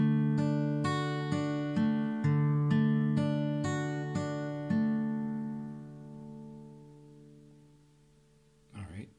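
Acoustic guitar played fingerstyle, picking a verse of a song: clear plucked notes arrive in an even pattern, then the last chord rings and slowly decays, followed by a brief rustle at the end.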